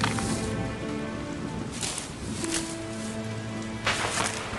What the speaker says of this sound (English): Help Arlo build a shelter from the rain.